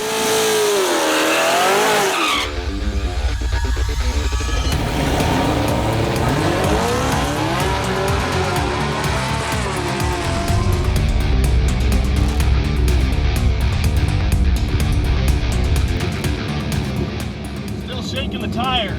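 A Chevrolet Camaro and a Ford Mustang launch down a drag track, engines revving hard with rising and falling whine, loud rumbling and tire noise sustained throughout, while a voice talks over the action.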